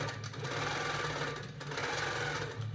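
A Handi Quilter longarm quilting machine with a Pro Stitcher running, a steady, fast mechanical stitching hum that continues evenly throughout at low volume.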